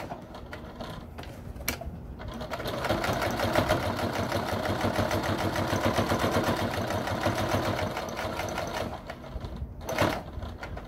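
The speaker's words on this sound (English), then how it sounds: "I really like for all of my top stitching to run close to the edge." Sewing machine running a line of top stitching near a fabric edge, a steady rapid mechanical chatter that starts after a couple of seconds and runs continuously for about six seconds before stopping, close and fairly loud.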